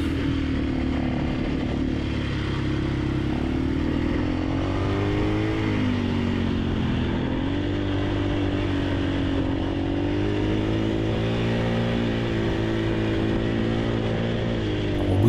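A 450 enduro motorcycle ridden through the desert sand dunes of Merzouga, its engine droning loud and continuous as the pitch rises and dips with throttle changes, heavy wind and rumble around it, no talk.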